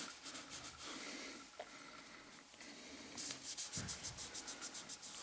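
Brush scrubbing powder residue off Glock pistol parts with cleaner, a quiet close bristly rubbing with quick rhythmic back-and-forth strokes that become more distinct near the end, with no voices.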